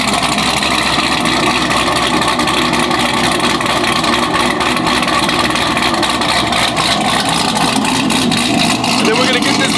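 A Camaro engine idles as it warms up, a steady, loud, close rumble with even low throb that runs unbroken throughout.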